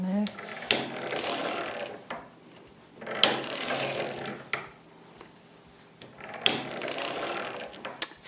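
A circular sock knitting machine is hand-cranked in three bursts of busy, ratcheting mechanical clatter, each a couple of seconds long, separated by brief quieter pauses, close up.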